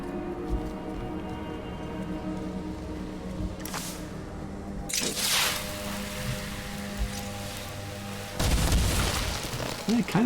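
A bomb in the video game Besiege drops with a few soft thuds and brief whooshes, then bursts into a heavy, rumbling explosion near the end over a steady mechanical background hum.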